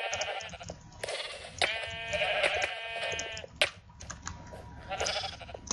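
Several sheep bleat in a Minecraft game, their wavering cries repeating in bursts over soft keyboard tapping and game noise, with quiet talk in the background.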